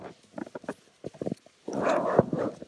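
A pug on a walk in the forest gives several short whimpers and yelps, then a longer, louder whining cry close by, with no talking.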